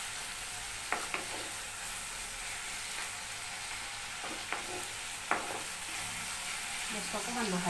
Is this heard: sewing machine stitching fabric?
no